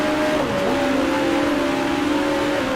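A 1966 open-wheel Grand Prix racing car in Grand Prix Legends, racing the Australian Grand Prix, holds a steady loud engine drone with a pitch that dips at a gear change and then climbs as it accelerates in a slipstream.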